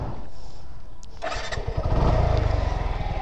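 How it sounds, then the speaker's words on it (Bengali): A 2019 Suzuki Gixxer SF FI motorcycle with 36,000 km on it cranks and fires up after a brief hiss, then settles into a loud, close, steady pulsing idle. "চলেন এবার বাইকটার ইঞ্জিনের সাউন্ড শুনি"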